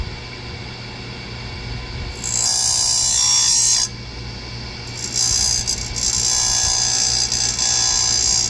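An Oregon chain grinder with a CBN wheel sharpens chainsaw chain in a square-grind jig, giving two short bursts of hissing, rasping grinding over a low motor hum, close and fairly loud.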